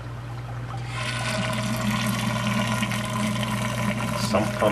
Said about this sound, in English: Sump pump empties there, into the floor drain there, which then goes down there.